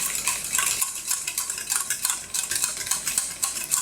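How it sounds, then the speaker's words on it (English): A spoon stirs a thick homemade foot scrub with a pomegranate exfoliator in a bowl, giving soft scraping and clinking strokes in a quick, irregular rhythm, close and fairly quiet. "And we're just going to give that one a stir."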